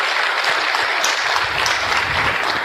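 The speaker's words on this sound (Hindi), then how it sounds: "तो हमारी कमिटेड टीम के लिए जोरदार तालियां" Loud, dense applause from a large audience at a motivational talk, steady and close for the whole stretch with no voices over it.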